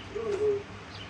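A single soft, low cooing bird call, brief and fairly faint, over a quiet outdoor background.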